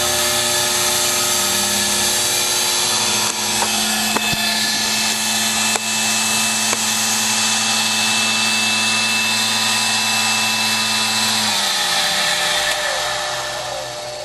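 Milling machine spindle running during a power drawbar test, a steady whining hum with tonal harmonics and a few faint clicks, winding down near the end.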